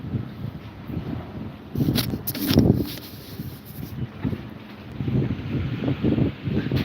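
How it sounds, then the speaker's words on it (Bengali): Gusty wind buffets the microphone in uneven bursts, rising and falling with a low rumbling roar outdoors. "সুন্দর একটা বাতাস আসছে ঠান্ডা বাতাস"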